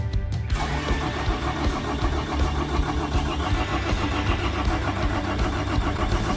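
A ZIL-130 diesel truck engine cranks and catches, then runs on in a loud, continuous, rough mid-pitched rumble that holds steady close by for several seconds, with no talking.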